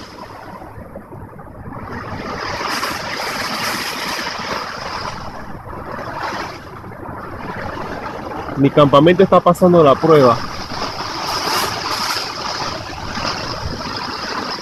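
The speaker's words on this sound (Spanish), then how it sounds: "está cayendo, qué aguacero, una tormenta" Heavy pre-dawn rain and gusting wind of a storm on Coiba island make a constant broad roar around a camp, with a brief rattling burst partway through as someone talks over it.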